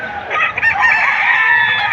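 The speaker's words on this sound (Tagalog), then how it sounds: "Ito po yung dalang manok ni sir." A gamecock for sale at a rooster market in Padre Garcia, Batangas, ten months old, crows once loudly and close in a single long drawn-out call, with faint crowd noise beneath.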